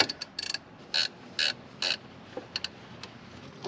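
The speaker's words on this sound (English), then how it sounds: "That's a 13 millimeter nut. We'll just back that out and get on our way." A ratchet backs a 13 millimeter nut off an AC line on a Jeep Wrangler TJ. Several short, crisp bursts of clicking ratchet strokes come up close with small gaps between them, and no voices are heard.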